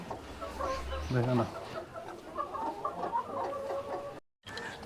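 A turkey at a sunflower farm garden in Kakkanad, Ernakulam, gives a short burst of clucking, gobbling calls, with other bird chatter and soft voices in the background.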